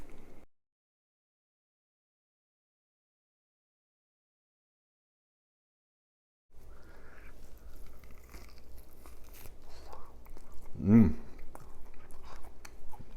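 Juicy Carolina-style competition pork ribs with a vinegar mop being bitten and chewed up close, a steady run of moist chewing with one louder crunchy bite partway through, after a few seconds of silence.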